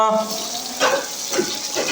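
Small puti fish from the Meghna river frying in hot oil, giving a soft steady sizzle with a few louder bursts, close by.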